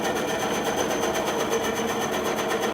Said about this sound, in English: while you're using the bandsaw, that you keep your hands away from the saw